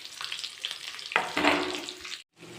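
Finely chopped onions fry in hot oil for a fish dum biryani, a steady close sizzle with stirring scrapes, swelling midway before cutting out briefly near the end.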